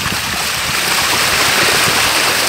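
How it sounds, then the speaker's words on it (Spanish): Floodwater rushes along a flooded street in Chaves, a steady loud broadband wash of running water close by, with no voices. "Ahí se puede ver cómo corre el agua."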